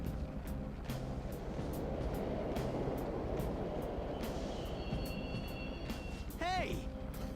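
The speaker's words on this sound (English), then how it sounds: "The trains are totally running." A subway train runs in the Persona 5 video game: a low, continuous rumbling drone rolls on steadily at a quiet level, with a brief rising tonal whine near the end.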